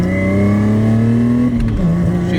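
Revving from a Lexus IS300 fitted with headers and a new HKS Carbon Ti exhaust, nearby and loud: a steady engine drone that climbs in pitch, then drops off, without speech.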